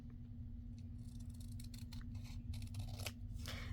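Scissors snip through paper for a page tab, a run of short crisp cuts that grow denser toward the end, close and clear over a steady low electrical hum, with no talking.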